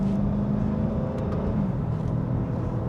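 Dodge Challenger engine pulling in first gear, a steady low rumble and whir that holds through the whole stretch with a slight drop in pitch partway through, heard from inside the car with no talk.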